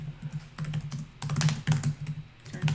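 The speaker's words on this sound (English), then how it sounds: "Waiting on some typing." Typing on a computer keyboard, with steady bursts of close, crisp key clicks and clacks in uneven runs and no voices.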